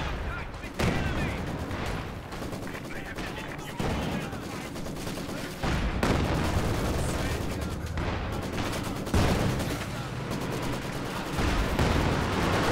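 Machine gun fire and a chaotic battle in a winter match of Company of Heroes 2, with dense bursts of gunfire, heavy booms and layered combat noise that continue throughout while voices talk faintly beneath.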